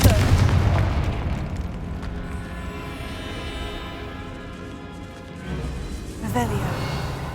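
A booming Confringo spell blast from the Hogwarts Legacy video game goes off with a heavy low rumble that fades away, and a spoken voice overlaps it.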